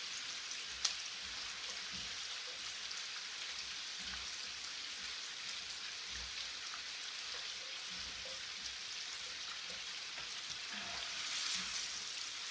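Cajun shrimp, sausage, squash and zucchini fry in a skillet with a steady, close hiss of sizzling that runs unbroken throughout, no voices.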